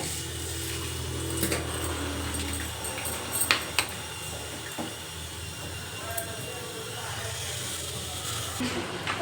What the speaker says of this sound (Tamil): இப்போ கடுகு வெந்தயம் பொறிஞ்சிருச்சு